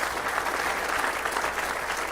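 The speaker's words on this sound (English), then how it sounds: "Give them a round of applause." A crowd applauds partners at a topping-off ceremony for the Rhode Island FC soccer stadium, dense sustained clapping at an even level throughout, close and full with no pauses.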